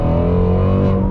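Voodoo V8 sports car engine with a 6-speed manual revving hard toward its 8,250 RPM redline, a loud, sustained, close-up harmonic roar held steady through the whole burst with no one talking.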